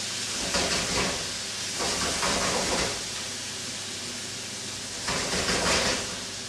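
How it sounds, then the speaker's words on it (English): Beef frying in hot oil in a wok gives a loud, steady sizzling hiss that swells in a few surges as the pieces crisp up. "It's getting real nice and crispy here in this hot oil."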